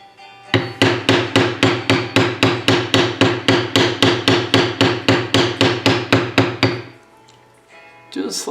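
A round beveler tool struck repeatedly with a mallet to bevel leather, about two dozen loud, evenly spaced, close thuds in a steady rhythm, then a pause with faint background noise.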